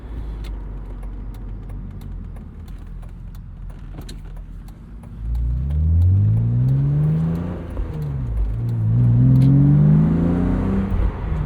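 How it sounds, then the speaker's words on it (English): A BMW engine warms up with a low idle that rises into repeated revs, loud and close, with a few faint jangling clicks early on and no talking. "Sometimes BMWs take a long time to warm up though"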